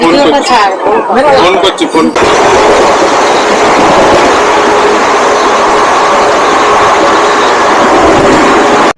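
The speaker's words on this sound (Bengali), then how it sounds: "এই হাওড়া স্টেশন থেকে ট্রেন ছাড়লো।" A train leaving Howrah station rumbles and rattles along at a steady pace, loud and close, with people talking briefly at the start.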